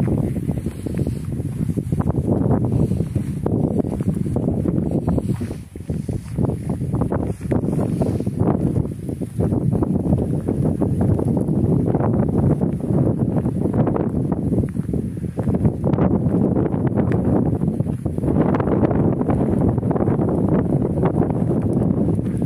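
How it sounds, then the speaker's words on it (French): Wind buffets a microphone outdoors at a campsite in the Camargue, France, with a constant, heavy low roar and gusty surges that swell and dip for the whole stretch and no talk. "On risque de beaucoup entendre le vent."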